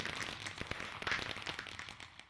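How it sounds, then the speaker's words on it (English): Fireworks in the video game Stardew Valley: a run of sharp crackling pops and bursts at moderate level, repeated irregularly over a couple of seconds with a faint hiss between. "Yay, fireworks!"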